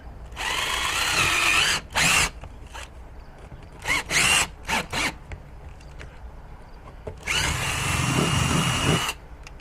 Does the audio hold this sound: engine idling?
no